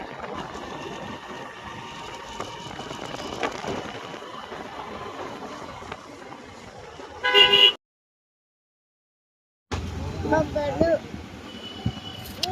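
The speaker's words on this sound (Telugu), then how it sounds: "ట్రాఫిక్ ఎంత ఎట్టగా ఉంది." Steady street traffic rumble with voices, a quick car horn honk, a sudden stretch of silence, then the busy road noise returns.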